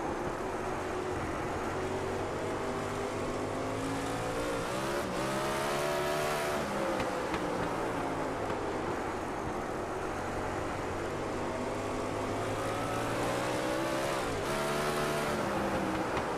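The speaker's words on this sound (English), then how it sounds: "you can hear him never quite getting to full throttle" A pavement sprint car engine in iRacing drones steadily at high revs below full throttle, its pitch rising and dipping without ever peaking, heard from on board over constant road roar.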